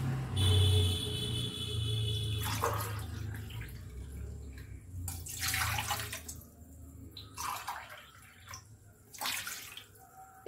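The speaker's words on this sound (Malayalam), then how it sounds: "ആദ്യം വെള്ളം ഒഴിക്കാം." Water poured into a pan to cook rice flour for pathiri, several separate splashing pours with short gaps between them over a low background hum, close and clear, with no talk.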